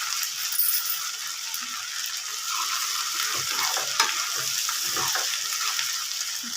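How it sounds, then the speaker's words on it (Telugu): Curry leaves fry in peanut oil for prawn pickle, hissing steadily up close while a spoon stirs with light scraping clinks against the pan. "2 రెమ్మల కరివేపాకు ఇదంతా ఫ్రై చేసుకోవాలి."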